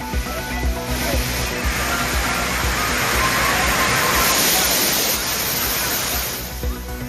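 Heavy rushing water at Thirparappu waterfall, a dense, steady roar of falling and splashing water that fills the whole clip at close range, with no clear voices.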